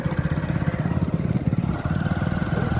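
A motorcycle engine runs steadily at a low, throbbing pitch throughout, with a continuous rumble while riding along a very poor road to Mahudi.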